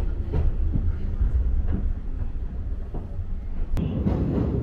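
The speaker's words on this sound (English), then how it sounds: "The train is now slowly crossing the Juganji River" A Toyama Regional Railway train rolls slowly over a bridge across the Juganji River, a steady low rumble with faint periodic wheel clicks and a sharp metallic tick near the end.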